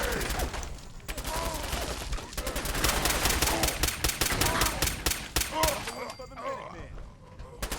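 Rapid gunfire from a pipe pistol in Fallout 4 crackles in dense volleys, shot after shot in quick bursts, with other weapons and game noise mixed in and loud throughout.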